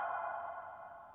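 A single soft, muted plucked harp string blooms into a washy, reverberant tone that slowly fades, heard alone.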